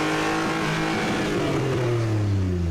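A lifted 4x4 with a 3-inch lift, subframe drop and short exhaust revs up close, its loud, throaty, deep exhaust note rising steadily in pitch for a few seconds.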